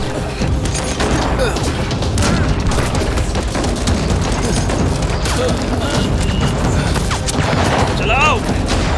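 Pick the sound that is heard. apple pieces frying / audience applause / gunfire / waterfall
gunfire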